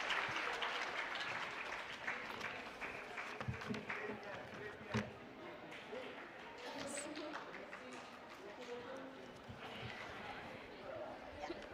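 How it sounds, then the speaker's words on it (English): An audience applauds the cast and crew of a stage production of Victor Hugo's words at a literary festival, with steady, moderately distant clapping and crowd murmur running throughout. "Let's give the cast and crew another big round of applause"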